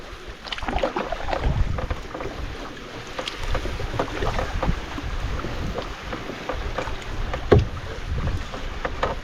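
A canoe grinds slowly across shallow, boggy ground in a wild marshy landscape, a continuous rough scraping and rumbling up close, with paddle knocks, splashes and wind buffeting the microphone.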